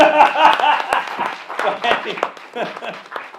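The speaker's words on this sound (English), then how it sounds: "Give yourselves a round of applause" Audience at a talk on diverse Black communities clapping for themselves, a brief, uneven burst of hand claps mixed with chuckles and voices.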